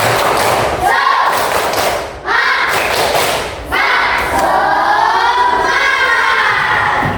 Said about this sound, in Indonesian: Tepuk semangat dulu ya. Tepuk semangat.